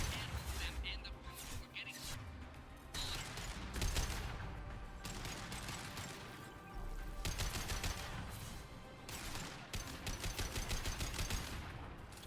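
Gunfire in the video game Mass Effect 2, with repeated sharp shots and bursts at moderate loudness, coming in several volleys between short pauses, over game background sound and occasional talk.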